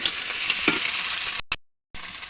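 Ginger and spices fry in a pan for a beef curry, a steady sizzle with stirring scrapes, broken by a brief silent gap before the frying resumes.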